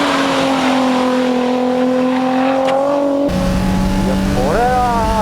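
Amuse Z33 and an S2000 running hard on a race track, engines droning loudly at steady pitch and then rising as one revs up near the end, with a voice talking underneath.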